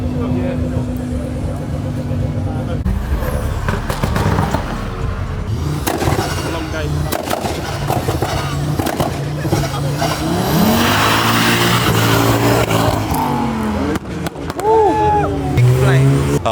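At a nighttime car meet, a car does a burnout: loud engine revving and tire squeal over a continuous roar, with people talking and shouting nearby.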